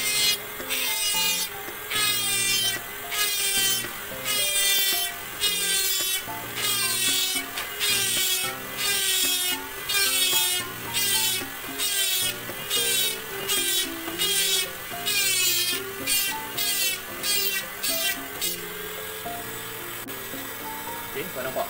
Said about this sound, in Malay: Sekarang kita akan step untuk kikis bagi cantik dia punya paruh dia ni.